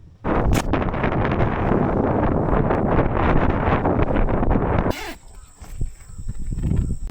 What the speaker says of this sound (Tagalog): Ganun din lakas ng hangin.